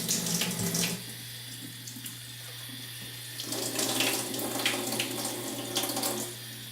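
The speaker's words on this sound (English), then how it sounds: "there's no harm in running them under water." Tap water runs steadily into a sink while mushroom caps and stems are rinsed under it, the close splashing swelling and easing as the pieces move through the stream, with a low constant hum underneath.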